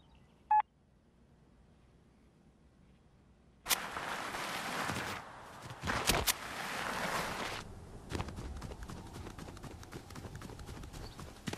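A phone call placed in Fortnite and dialing through to voicemail: a single sharp dial tone, then a long stretch of louder clattering, clicking line noise with repeated tapping pulses.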